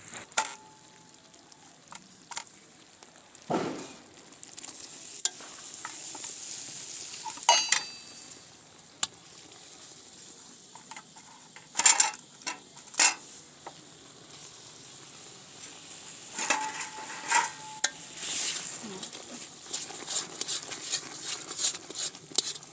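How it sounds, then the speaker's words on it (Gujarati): Mava being stirred into sugar syrup in a pan for village-style pedas, with soft scraping and sizzling, occasional louder clanks of a spoon against the pan, and a faint background hiss. "હવે તેમાં આપણે માવો ઉમેરી દઈશું"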